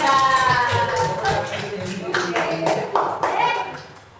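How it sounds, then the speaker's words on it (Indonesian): A group claps together in a lively burst of applause in an elementary school classroom, with children's voices chattering and calling out over the clapping. "Tepuk tangan untuk kelompok 3."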